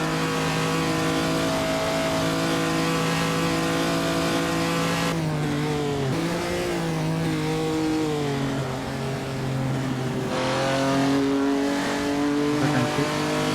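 A 1948 race car engine in Assetto Corsa at the Prix de Berne drones continuously and loudly, rising and falling in pitch through gear changes and throttle lifts with no break.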